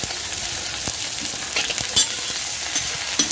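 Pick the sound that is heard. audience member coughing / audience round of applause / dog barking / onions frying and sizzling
onions frying and sizzling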